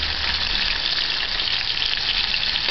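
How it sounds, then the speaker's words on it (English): Garlic and scallion sauté in a hot pan with a steady, loud sizzle of frying that holds evenly throughout, with no talking. "Add the garlic, the scallion, and saute it."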